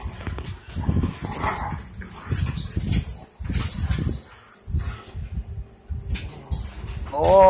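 Puppies whimper and give short yips and barks at close range during playtime. People talk over and between the sounds, and a higher whine comes at the end.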